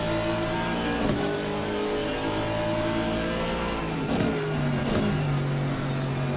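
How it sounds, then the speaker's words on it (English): Race car engines in the video game Assetto Corsa Competizione roar steadily, with pitches sweeping up and down as cars pass and shift, continuous and fairly loud. "God, the cars sound great, don't they?"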